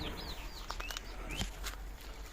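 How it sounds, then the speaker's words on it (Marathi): Bird calls ring out from a bamboo patch outdoors: a few short, sharp cries and chirps scattered over faint background hiss, moderately near and with no talking. "कावळा आहे"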